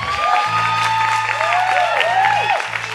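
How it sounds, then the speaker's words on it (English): An audience at an open stage show claps steadily and continuously throughout, with a few cheers and a low hum underneath. "Clap now if you want."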